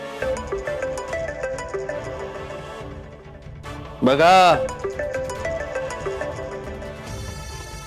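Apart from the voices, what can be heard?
phone ringtone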